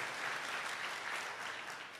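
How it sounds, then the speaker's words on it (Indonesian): Church congregation clapping steadily during a pastor's sermon, a dense, even wash of many hands that keeps a constant, fairly loud level throughout, heard with no speech over it. "Kalau tepuk tangan yang gak kompak gak usah tepuk tangan saudara."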